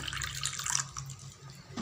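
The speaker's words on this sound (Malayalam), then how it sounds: "ഇനി നമുക്ക് ഒഴിച്ച് കൊടുക്കാം ഇതിൻ്റെ പകുതി വെള്ളം മാറ്റി കൊടുക്കാം" Water poured into an aquatic plant container, a brief close splashing trickle that is strongest at the start and fades within two seconds, with no voices.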